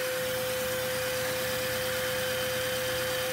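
A small Lego 2x2 three-cylinder vacuum engine with a large flywheel runs continuously, a faint, steady mechanical hum with a fixed tone under a hiss of background noise.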